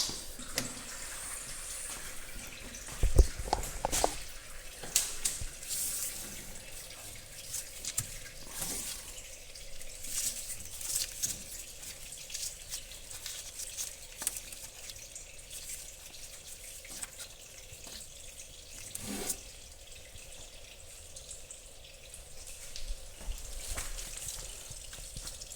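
Engine oil drains from a John Deere 2025R compact tractor into a pan, a faint steady trickle of liquid with occasional louder splashes and clanks.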